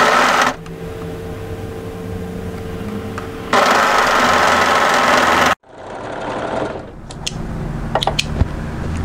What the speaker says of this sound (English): come to your overlocker and overlock the center back seam into place